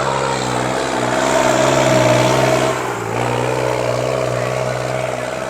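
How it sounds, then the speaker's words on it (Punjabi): A tractor runs in a trolley pulling contest, its engine droning loud and steady with a heavy low hum, rising in a brief rev midway before settling back, close by throughout. "ਪਹਿਲਾ ਗੇੜਾ ਇਹਦਾ ਲਗਭਗ ਪੂਰਾ ਹੋ ਚੁੱਕਿਆ ਟਰੈਕਟਰ ਦਾ"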